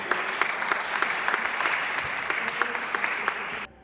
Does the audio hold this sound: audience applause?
yes